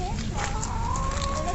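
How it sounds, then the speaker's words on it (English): Hens on an organic egg farm cluck in a dense, continuous flock chatter, with a few sharper calls rising over a steady background din. "This is our the hen farm, which is the organic farm. We produce the eggs by ourselves."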